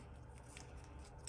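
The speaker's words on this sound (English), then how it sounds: "Now I can just get some scissors and clean up the sides." Scissors snipping away the excess edges of a freshly made silicone miniature mold, a quick, quiet cutting sound close by.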